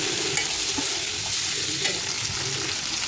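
Chopped cluster beans fry in a hot pan, giving a dense, loud, continuous sizzle with a few faint stirring clicks and no talking.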